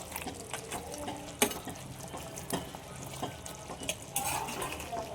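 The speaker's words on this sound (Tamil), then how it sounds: "கறி வேகிறதுக்கு இந்த தண்ணி ஆட் பண்ணணும் நம்ம." Water splashes and pours into a pan of cooking country chicken, with stirring scrapes and soft sizzling; utensils clink against the pot now and then.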